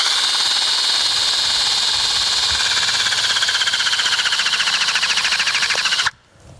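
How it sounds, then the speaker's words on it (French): A hydraulic crimping machine's jaw presses a clevis onto a rope-access safety cable, giving a loud steady mechanical whine and rattle that stops abruptly near the end, followed by quiet. "Le petit clac que vous avez entendu, c'est que c'est serti."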